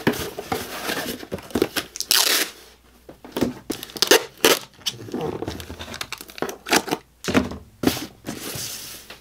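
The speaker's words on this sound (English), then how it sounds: "Tape it up and it'll be good." Packing tape is pulled and pressed onto a cardboard shipping box, giving loud, irregular bursts of screeching, crinkling tape with short pauses between strips.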